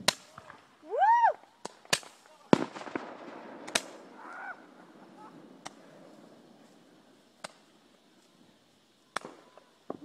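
A Roman candle battle outdoors, with sharp firework pops and bangs going off irregularly, some loud and close, others fainter, and a brief whistling shriek early on amid occasional voices.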